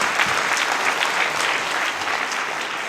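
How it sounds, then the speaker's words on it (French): Steady, dense applause from a cinema audience at a film premiere fills the whole stretch, a close, even roar of many hands clapping. "je pense qu'on peut les applaudir d'être venus ce soir"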